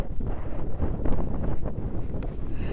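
Strong gusty wind buffets the microphone on the open Quantock Hills in Somerset, a loud, constant roaring rumble with uneven surges throughout.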